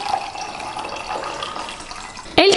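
Hot water runs from a tap or pours into a cup to dissolve sugar for homemade iced tea: a steady, fairly close liquid stream that ends with a brief louder splash.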